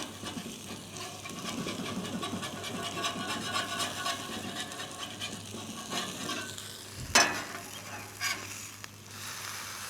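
A spatula scrapes steadily across a griddle surface during seasoning, a continuous rasping texture with low sizzle beneath and one sharper, louder scrape near the end.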